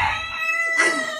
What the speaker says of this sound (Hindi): ये सिल्की मुर्गा जो है ना ये हमारा बड़ी आवाजें दे रहा